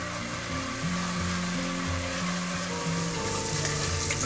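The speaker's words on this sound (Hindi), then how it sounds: "अदरक लहसुन का पेस्ट डालेंगे। प्याज के साथ 1 मिनट तक पकाएंगे।" Ginger garlic paste frying with onion for masoor dal tadka makes a continuous, even sizzle, with low sustained tones humming underneath throughout.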